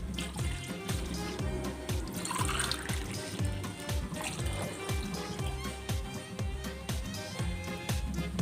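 Water poured from a glass into a pan of wheat rava while making halwa, a steady close splashing trickle running through with repeated low knocks and kitchen clatter.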